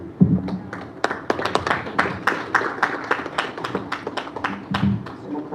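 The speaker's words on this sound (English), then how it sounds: "A round of applause for Shri Amitabh Mukherjee as he joins us on stage" Audience clapping in a hall as a guest named Amitabh Mukherjee joins the stage at a live event, a steady patter of many hands with some louder individual claps, alongside a voice speaking.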